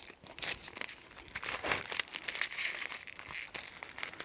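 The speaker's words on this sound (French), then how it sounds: "on va enlever le scotch" Adhesive tape being peeled off fabric, producing a close crackling, ripping rustle in uneven bursts across several seconds.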